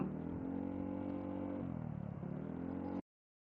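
Engine drone of a Yamaha XMAX scooter bored up to 363 cc with an Akrapovic exhaust, riding in traffic, a steady mid-pitched hum that shifts slightly in pitch before cutting off abruptly.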